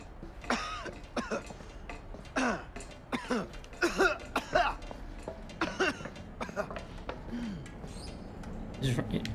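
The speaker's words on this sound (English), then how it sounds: "Coughing from the smoke." Repeated coughing and throat clearing in bursts from characters caught in smoke in The Casting of Frank Stone, a horror game, fairly close and spread across the whole stretch with brief gaps between fits.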